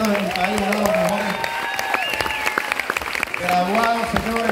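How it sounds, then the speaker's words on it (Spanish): Loud audience applause fills the room at a live talk event in Bogotá, steady clapping throughout with a host's voice speaking over it and cheers rising near the end. "Fuerte el aplauso"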